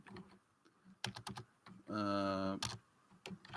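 Scattered key clicks on a computer keyboard come in short irregular bursts, close and fairly quiet, with a sustained buzzing tone partway through and someone speaking briefly around the typing.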